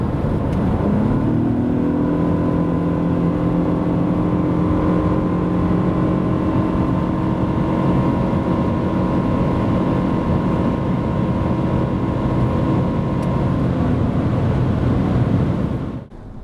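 Lexus LBX 1.5 hybrid crossover pulling from 90 to 140 km/h, its engine holding a loud, sustained drone with slowly climbing harmonics and road rumble beneath, continuous for over fifteen seconds before easing off at the end.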